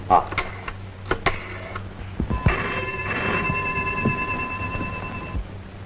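A telephone rings indoors with a steady, bright electronic tone that holds for about three seconds after a few sharp clicks and knocks.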